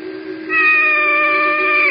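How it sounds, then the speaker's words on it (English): A drawn-out cat meow in an old-time radio drama, a single sustained tonal wail with clear harmonics lasting over a second, loud and close with no talk over it. "Except perhaps that errant cat."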